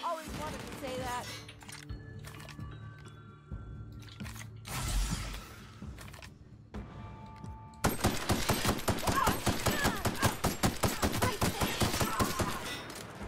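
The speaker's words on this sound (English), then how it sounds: "A few of those bullets hit." Rapid automatic gunfire from the video game The Outer Worlds: a dense, loud run of sharp shots fills the second half, after quieter game sounds and a short burst earlier.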